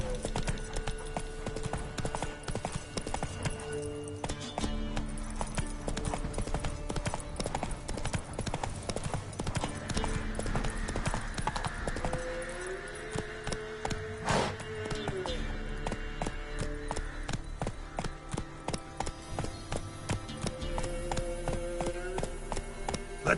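Roach, Geralt's horse in The Witcher 3, gallops with rapid, rhythmic hoofbeats that carry on throughout, backed by game music and occasional voices.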